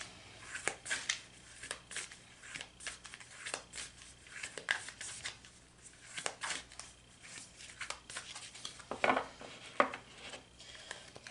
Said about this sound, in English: let's go ahead and shuffle the cards to get your final card.